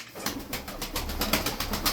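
A male sarıkır pigeon cooing in a quick series of soft, rhythmic pulses, close by and alone.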